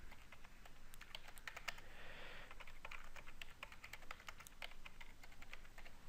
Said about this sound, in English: I type in here